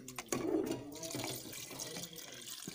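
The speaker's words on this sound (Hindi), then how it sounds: "तो अकॉर्डिंग जितना हमको ज़रूरत है मैं उसके अकॉर्डिंग इसमें पानी डाल रही हूँ।" Water poured into a pressure cooker in a home kitchen, a close running splash that is louder at first and then settles into a steady, quieter flow.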